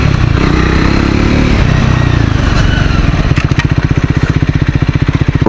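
A Triumph Scrambler 400 XC motorcycle rides an off-road patch, its engine loud and close, first a smooth rising drone, then a rough, rapid pulsing thrum as the throttle is worked.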